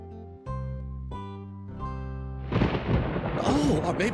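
A sustained musical tone gives way to a rolling, rumbling burst of thunder during a storm in a children's animated story, with the noisy crash building and lingering to the end.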